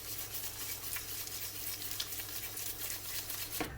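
A spoon works chocolate chip cookie dough around a bowl, creaming it together with a steady, soft scraping and stirring texture that continues close and uninterrupted, with a brief sharper scrape near the end.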